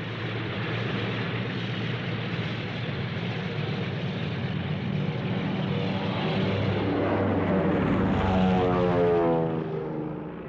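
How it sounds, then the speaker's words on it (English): A twin-engine Messerschmitt fighter drones loudly and steadily, a close, continuous propeller roar that swells and shifts in pitch as it passes near the end, with no voices over it. "The twin-engined Messerschmitt did well in Poland, in both the bomber escort and ground attack roles."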